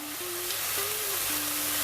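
Desert locusts frying in a hot pan give off a steady, close hiss of sizzling with a faint low hum underneath, with no talking.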